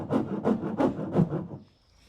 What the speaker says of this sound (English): and I'm doing that with my rasp.